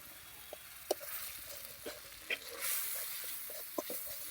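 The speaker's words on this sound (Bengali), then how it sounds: "মশলাটা কষানো ভাজা হয়ে গেছে" Spices for a fish curry fry in a pan with a faint, soft sizzle, broken by a few light stirring clicks and scrapes spaced irregularly through the quiet stretch.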